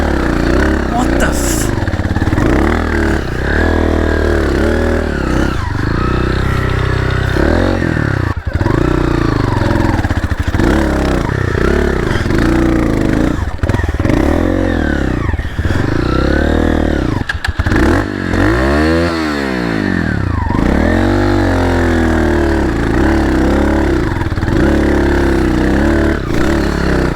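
A Tenaci Wong trials motorcycle labours up a 4,500 m snowy mountain road near Kangding, Sichuan, losing power. The engine is loud and close, revving up and down in repeated surges, sustained throughout with some clatter.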